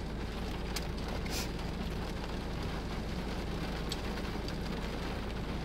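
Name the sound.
heavy rain pouring on a car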